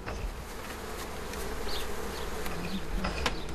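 Up to 50,000 bees in an opened beehive fill the air with a dense, steady buzzing that holds close and loud throughout, with no voices.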